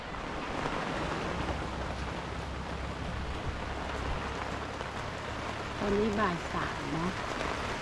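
Steady rain falling at the Pa Sak Jolasid reservoir dam in Thailand during a fishing trip, a continuous broadband wash with some wind, with a person speaking briefly over it near the end.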